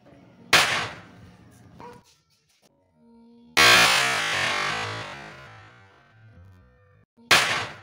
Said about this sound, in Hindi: और ये हमारा पटाखा बॉम्ब, मिनी बॉम्ब बनकर तैयार है। इसका टेस्ट लेते हैं हैमर की सहायता से।